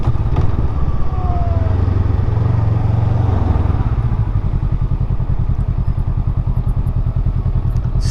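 After a coolant flush, a diesel vehicle engine runs at a steady rumbling idle with a rapid low chug, loud and close, with occasional light clatter and no talking.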